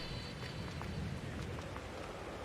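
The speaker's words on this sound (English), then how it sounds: "God, this rain's getting heavier." Heavy rain pours steadily in the Farming Simulator 22 video game, a dense, continuous hiss of drops on surfaces that stays loud and even throughout with no talking.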